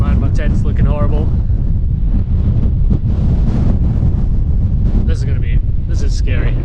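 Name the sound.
strong wind on mountain Beinn Ghlas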